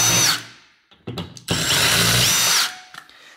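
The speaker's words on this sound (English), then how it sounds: "a drill, and we're just gonna remove our screws from here" A power drill whirs loudly in two bursts while removing screws, spinning up and winding down, with a short pause and faint clicks between runs.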